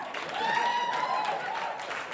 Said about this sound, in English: Keep that applaud going